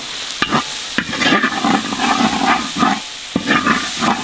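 Tomato masala with turmeric, chilli, coriander powder and garam masala is stirred and fried in a pan, with a loud close sizzle broken by repeated rhythmic scraping strokes of a spoon about every half second.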